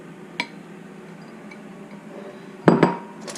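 Frozen blueberries tumble into a dish with a brief early clink, then two quick, bright rattling clatters near the end against a quiet kitchen background.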